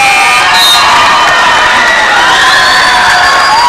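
A men's basketball crowd at a multi-sport island games tournament, loud continuous shouting and cheering with high whistles and whoops, dense and unbroken throughout.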